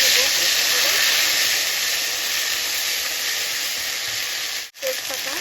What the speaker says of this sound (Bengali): জিরে আর আদা আছে এতে, আদা আর জিরেটা আমি দিয়ে দেবো,